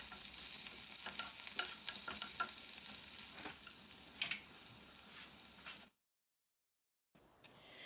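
Onions and curry leaves fry in oil with a soft, steady sizzle and occasional stirring scrapes, then cut to a short stretch of silence before faint sizzling returns.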